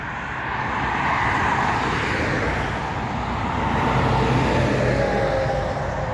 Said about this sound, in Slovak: A takto chodia auta.